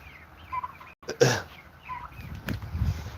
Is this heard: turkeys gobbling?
yes